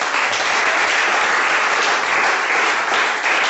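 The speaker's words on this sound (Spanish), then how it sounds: "Y ese aplauso para ustedes." A congregation at a church engagement celebration breaks into steady, dense applause, loud and continuous from start to finish with no talk over it.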